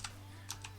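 Three faint, quick keystrokes tap on a computer keyboard, close by and spaced unevenly over a low background hum.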